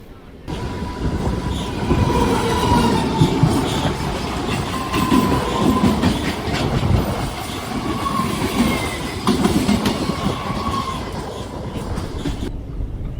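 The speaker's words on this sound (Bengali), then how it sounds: "আর আমাদের ট্রেনটা চলে আসলো কামারকুণ্ডু।" A local train runs on the rails into Kamarkundu, its steady rumble and rhythmic wheel clatter heard from on board while voices talk.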